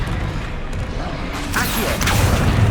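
A spell cast in the Hogwarts Legacy video game, a magical whoosh and crashing burst over a dense, steady game soundscape that swells louder toward the end.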